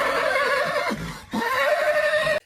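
An angry horse, agitated by beavers strapped to its back, neighs loudly and close by in two harsh whinnying bursts separated by a short break, with no talking.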